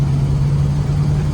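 A maroon 1981 Chevrolet Camaro Z28 engine runs steadily at close range, a loud continuous low drone with an even tone.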